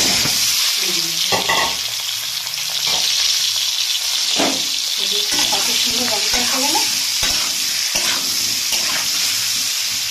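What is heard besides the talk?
potatoes frying in oil with turmeric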